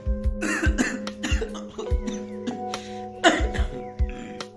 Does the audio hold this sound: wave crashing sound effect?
no